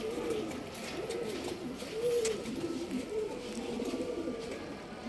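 Pigeons of an old line breeding stock coo in soft, repeated low calls that rise and fall continuously, heard fairly close against a light ambient background.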